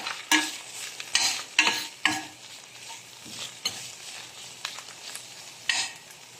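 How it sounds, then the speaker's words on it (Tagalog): Shrimp paste being stirred and sautéed with garlic and onion in a pan: a series of scraping, clattering stirs at an irregular rhythm over a soft sizzle, close and clear with no talking. "Siyempre, hahaluin natin."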